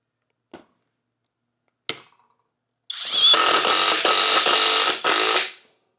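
After two sharp clicks, an impact wrench fitted with an impact socket rattles loudly on a bolt in a close burst of about three seconds, then cuts off.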